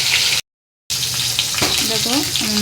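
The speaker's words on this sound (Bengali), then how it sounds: "দেখো মাছ ভাজা হয়ে গেছে, মাছ ভাজাগুলো তুলে নেব।" Fish fries in a pan with a steady close sizzle, broken by a short gap, then a few light scrapes and knocks toward the end.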